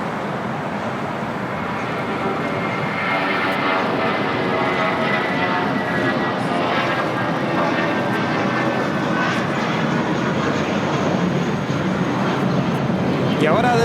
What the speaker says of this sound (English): Y ahora despegando de la pista, viva Airbus.